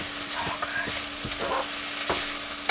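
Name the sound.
food frying in a pan in a van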